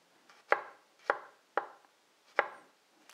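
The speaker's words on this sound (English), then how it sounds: "Slice all your garlic." A knife slicing garlic cloves on a cutting board for chili crunch, four crisp, evenly spaced knocks close by in a quiet room.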